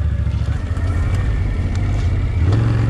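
A Can-Am Outlander ATV engine labours steadily as the quad climbs a small slope, a loud, continuous low drone that rises slightly in pitch near the end.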